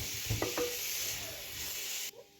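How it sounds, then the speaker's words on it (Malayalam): Chopped tomato being stirred into a sizzling spice mixture in a pan while cooking Kerala chicken mappas, with a couple of scraping stirs early on over steady frying sizzle that cuts off near the end. "ഞാനൊരു തക്കാളി അരിഞ്ഞ് വെച്ചത് ചേർക്കും എന്നിട്ട് അതൊന്ന് ഇളക്കിയെടുക്കണം"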